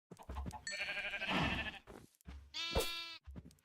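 Sheep bleating in Minecraft, two loud, harmonic bleats from close by with a short pause between them, the second one higher and wavering, with no talk over them.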